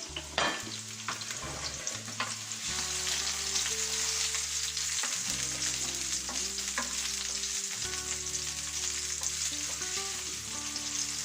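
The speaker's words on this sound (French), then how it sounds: "mon huile est chaude, je vais y déposer mes oignons et mon chorizo" Onions and chorizo sizzling in hot oil in a pan, a bright continuous frying hiss with crackles and occasional stirring clatter, heard alone up close.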